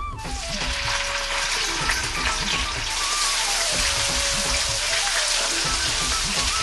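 Garlic-ginger puree hits hot oil with whole cardamom and cumin seeds for a butter chicken curry, bursting into a loud, dense, continuous sizzle and spatter that fills the whole stretch with no voices.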